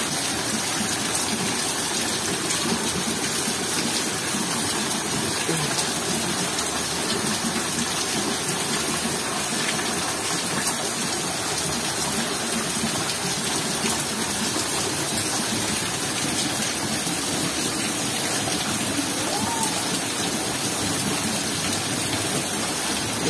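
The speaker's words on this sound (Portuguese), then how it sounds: "Tá pingando água aqui, rapaziada, ó." Steady rain hiss in northeastern Brazil with water splashing and dripping close by, a continuous wash of sound with no one speaking.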